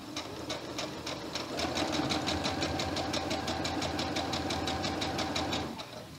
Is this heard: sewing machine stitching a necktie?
yes